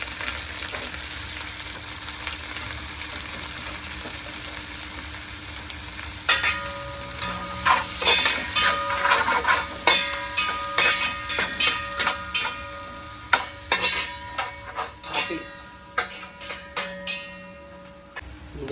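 Onions hiss steadily in a hot pan while being stir-fried for noodles, then sharp repeated scraping and tossing of a spatula against the pan joins in, loud and close, with no talking.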